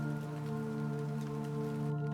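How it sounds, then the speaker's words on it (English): Soft, steady rain patters against the windows of a house in the forest, a continuous gentle hiss under a sustained tonal musical drone. "The rain becomes a whisper against the windows."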